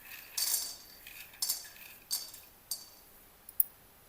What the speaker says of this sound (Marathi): शेंगदाणे भाजून घ्यायचे।